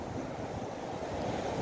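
Surf rolls in at Karangpotong beach on a clear, quiet day, a steady broad wash of waves with wind rushing over the microphone, no talking.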